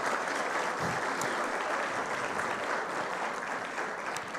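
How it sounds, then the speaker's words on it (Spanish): Steady, full applause from a large audience at a formal institutional forum, continuous clapping filling the whole stretch without pause. "Un fuerte aplauso para ella, por favor."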